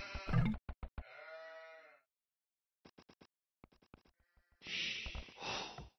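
Sheep in the Age of Empires game give wavering bleats, with clicky interface sounds in between and a burst of noisy game effects at the close.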